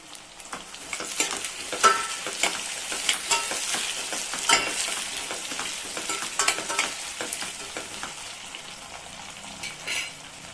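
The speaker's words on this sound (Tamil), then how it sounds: "பாருங்க, பூண்டு இந்த அளவுக்கு வதங்கிடுச்சு" Crushed garlic frying in oil in a pan while making a spicy garlic curry, a continuous bright sizzle with occasional scrapes and stirring clinks, no talk.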